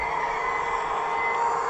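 A model train runs along its track with a steady motor whine and a soft mechanical hum, a short continuous stretch at even loudness.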